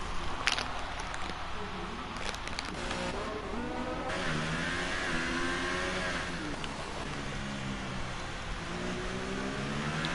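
Race car engine in a sim racing game at the Brazil circuit, a steady loud roar with rising and falling pitch as the car exits a corner and accelerates down the next sector, with little else over it.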